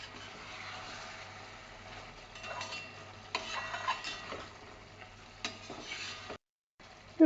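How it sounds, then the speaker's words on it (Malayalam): Chicken roast gravy stirred in a bronze uruli, a soft bubbling simmer with intermittent scraping and clinks of the spoon against the metal pot, fairly quiet and close. "ഒരു 10 മിനിറ്റ് കൂടെ നമുക്കിതൊന്ന് ഇളക്കി കൊടുക്കാം"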